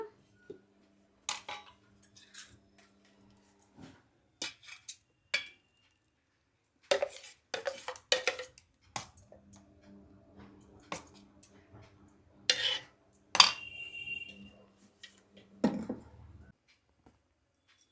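Rava poha dosa batter stirred after a pinch of baking soda goes in, heard as sparse soft taps and clinks of a spoon against a vessel separated by near silence, close and quiet.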